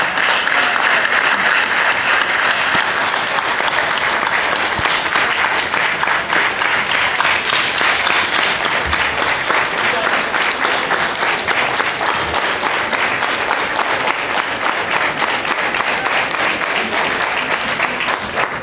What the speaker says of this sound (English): A big round of applause for our youth